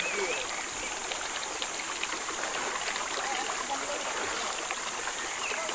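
Forest stream water flowing steadily nearby with a continuous broadband rush and trickle, voices speaking faintly at moments.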